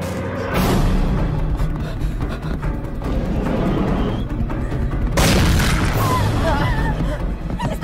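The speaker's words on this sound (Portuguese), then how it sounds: "Eles estão atirando!" Gunfire and booming blasts in a suspense film, with loud, continuous impacts and crashes that swell in two heavy waves, while frantic voices are heard underneath.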